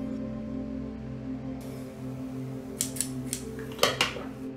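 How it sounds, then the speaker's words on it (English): Scissors snip off the extra thread on a DIY pigeon flight harness, several short crisp cuts near the end over a low steady hum, quiet and close. "I will cut off any additional thread"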